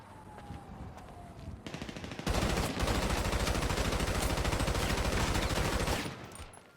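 Rapid, sustained bursts of automatic gunfire from a submachine gun in Grand Theft Auto Online, loud and continuous for several seconds, with no talking.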